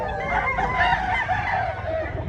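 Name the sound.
rooster at a gamecock expo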